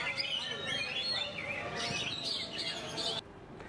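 Caged songbirds at a bird singing contest chirp and trill in quick overlapping phrases, fairly close, over a busy background murmur of people.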